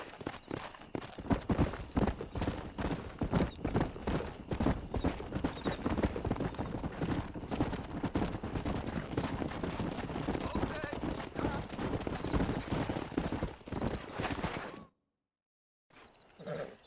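Rapid hoofbeats of a stallion in Red Dead Redemption clatter in a steady galloping rhythm, loud and close, with a horse whinnying along the way before stopping abruptly.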